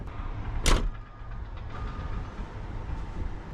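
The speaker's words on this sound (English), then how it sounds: "I'm gonna at least shut the door so dust and all don't get in the cab." The cab door of a 30-ton dump truck at a dusty loading site shuts with a single sharp thud, followed by a steady engine rumble.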